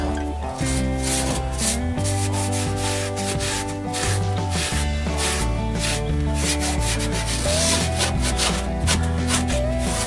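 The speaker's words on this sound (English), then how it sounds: "This is just a little bit of paint thinner, wiping it down." Metal on the underbody of a 1979 Ford Bronco being wiped down with paint thinner, a continuous close rubbing scrub over steady background music.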